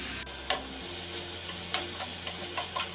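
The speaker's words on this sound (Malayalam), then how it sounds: "ചെറുതായിട്ട് ചോപ്പ് ചെയ്തിരിക്കുന്ന സവാളയും ഇതിലേക്ക് ഇട്ടിട്ടൊന്ന് ഇളക്കി കൊടുക്കാം" Chopped onion with a teaspoon of sugar and salt stirred in a pan, with a soft steady sizzle and a few scraping clicks of the spoon.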